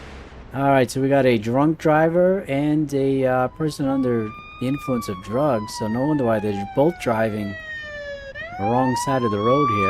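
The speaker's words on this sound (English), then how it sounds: "Apologize for that siren." Police car siren from the Police Simulator video game, a rising and falling wail with steady harmonic tones running beneath someone talking continuously throughout.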